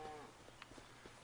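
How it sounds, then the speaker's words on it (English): Cattle, including an Angus cow, lowing faintly in the Farming Simulator 25 video game, with a few short, soft moos sitting low beneath a steady background of game ambience. "Got some nice cow moos going on over here."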